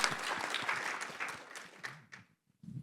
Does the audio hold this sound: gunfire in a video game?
no